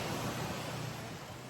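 Sea surf at Bihing Tahik Resort in Tawi-Tawi, a steady broadband wash of waves with some wind, continuous and fairly soft, no voices.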